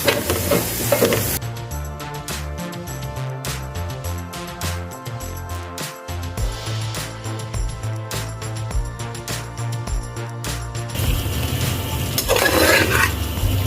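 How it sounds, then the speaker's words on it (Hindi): Chicken stirred and fried in a pan for shawarma, a steady sizzle with repeated scraping and clinking of the utensil against the pan, close and continuous with no talk. "चिकन डाल के इसको अच्छी तरह मिक्स करेंगे।"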